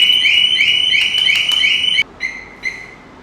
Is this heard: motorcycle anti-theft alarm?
yes